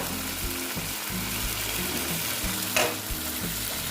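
Mustard paste and a splash of water hitting hot oil in a frying pan for a tilapia curry, a steady close sizzle with stirring scrapes and one sharper hiss partway through.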